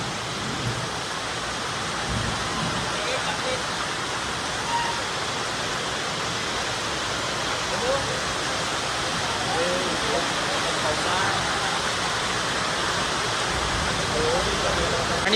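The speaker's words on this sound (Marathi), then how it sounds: "आणि पाऊस तर खूपच आहे. विजा पण भयंकर होत आहे आणि पाऊस पण खूप जास्त आहे." Heavy rain drums steadily and loudly on a tin shed roof as a dense, unbroken roar, with thunder somewhere in the wash and no pause through the whole stretch.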